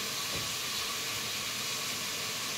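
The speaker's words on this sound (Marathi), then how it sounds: "आता इथं सगळा कांदा टोमॅटो परतून घ्यायचा आपल्याला" Onion and tomato sautéing in a pan for masale bhaat in a home kitchen, a steady, quiet sizzling hiss that continues evenly with no talk over it.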